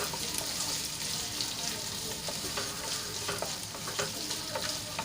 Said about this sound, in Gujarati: બાફેલા બટેટા એડ કરીશું અહીંયા મેં બે નંગ બટેટાને આ રીતે ઝીણા કટ કરી લીધા છે એ એડ કરી દઈશું અને તેલમાં થોડી વાર માટે સાંતળી લઈશું